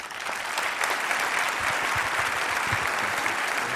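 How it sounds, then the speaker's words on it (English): Audience applause for a leadership event speaker, a dense, sustained burst of many people clapping close by, loud and even throughout with no speech over it. "Give John Leslie a round of applause"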